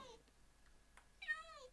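Cats meowing in a survival video game, a short rising and falling meow near the end after quiet gaps with faint clicks, close and fairly clear.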